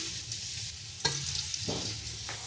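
Chopped onions sizzle in hot cooking oil in a village kitchen making kadhi pakora, a steady hissing fry broken by a couple of brief stirring scrapes, with no talking.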